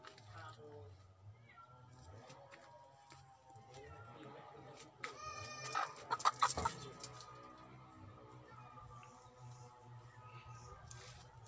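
Native chickens on an organic farm in the Philippines: hens cluck softly in the background while a person talks nearby, with a brief burst of louder squawking in the middle.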